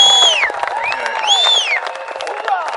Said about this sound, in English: Let's give Sheriff Joe a big round of applause.